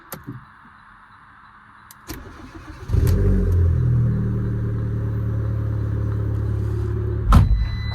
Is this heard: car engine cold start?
yes